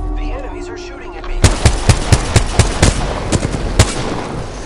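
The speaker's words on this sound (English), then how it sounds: "The enemies are shooting at me." Enemy gunfire in a PS4 shooter game, a series of sharp single shots at roughly even intervals after a quieter opening with game ambience, some fading echo between shots.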